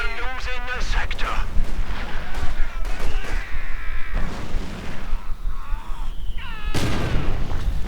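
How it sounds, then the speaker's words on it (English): A 120mm mortar fires in Company of Heroes 2 with repeated deep booms and rumbling battlefield blasts, while a voice talks over the action throughout. "the 120mm mortar firing away once more"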